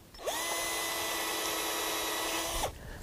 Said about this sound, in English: And we could even drill a hole.